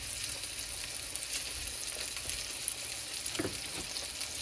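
Garlic sizzles and fries in a very hot pan for a pork chop dish, giving a steady crackling hiss throughout with a few louder pops near the end.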